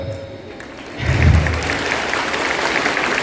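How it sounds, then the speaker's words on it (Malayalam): Audience applause breaks out at an award ceremony, a burst of clapping that swells after a quiet start and then holds steady at a moderate level. "ഈ കയ്യടി എന്ന് പറയുന്ന സാധനം ചോദിച്ചു വാങ്ങേണ്ടതല്ല കേട്ടോ"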